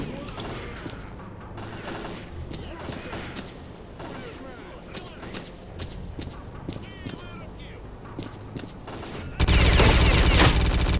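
Rapid bursts of gunfire crackle amid clattering footsteps and game effects in STALKER: Clear Sky, ending in a sudden loud blast of noise.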